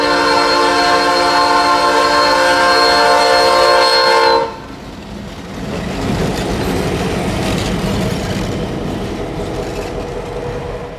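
A freight train rolls through Rockford, Illinois, its loud horn sounding in long sustained blasts for about four seconds, then cutting off to leave the steady rumble and rattle of the passing cars.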